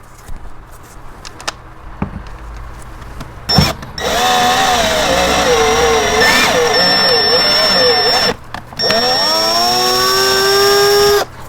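A handheld drill spins slowly to drive an M4x7 tap into metal parts for a DRO install on a Vevor 8x14 mini lathe, its whine steady and near with short breaks and speed changes.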